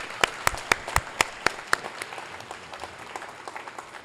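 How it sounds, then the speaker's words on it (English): A crowd at an event launch claps in a round of applause, a few loud distinct claps at first before settling into a softer, steadier patter that carries on. "Please, will you give them a round of applause?"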